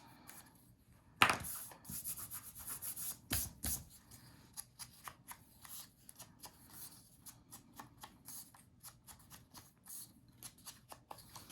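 Soft rubbing and dabbing as the edges of a paper page for a baby photo album are inked by hand, quiet scratchy strokes with a sharper scrape or two near the start, close and without talk.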